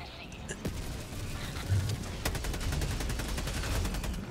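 Video game gunfire from a strafing run, with rapid bursts of shots crackling over a dense rumbling battle din while someone talks over it.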